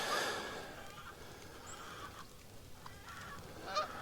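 Faint geese honk in scattered calls flying overhead on a snowy morning, distant and sparse against a soft background hiss, with a slightly louder call near the end.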